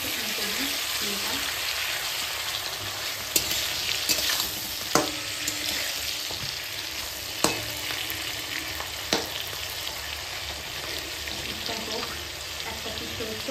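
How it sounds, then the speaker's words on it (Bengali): Green beans frying in a pan give a steady broadband sizzle throughout, with occasional sharp clicks of a utensil stirring against the pan. "শিম ভাজাটা হচ্ছে, ওটা হলেই হয়ে যাবে কমপ্লিট"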